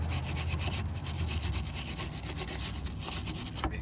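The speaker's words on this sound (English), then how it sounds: "Just hit that with a wire brush." A wire brush scrubs dirt and crud off metal spring tabs on a Jeep JK transmission, a loud, close, continuous raspy scratching in quick back-and-forth strokes.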